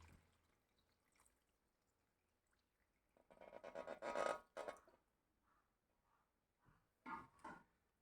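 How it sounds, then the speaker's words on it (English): Hot water poured onto rice in a pot for vegetable pulao, a short gurgling pour lasting about two seconds, then a few quieter splashes and a brief second pour, all close and otherwise quiet. "So you have to add 4 cups of water to this."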